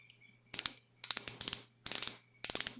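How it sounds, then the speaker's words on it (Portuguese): A micrometer with 0.01 mm resolution is closed onto a part by its ratchet, giving four close, crisp bursts of rapid clicking separated by short pauses in a quiet room. "Vou fazer a medição aqui da minha peça. Então, fechando pela catraca."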